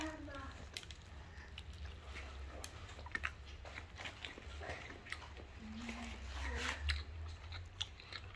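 A child chews a burger close by during an eating challenge, with soft wet mouth sounds and bites under faint background murmur.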